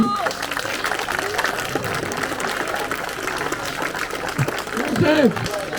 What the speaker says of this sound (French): Joseph Smodis, on peut l'applaudir aussi.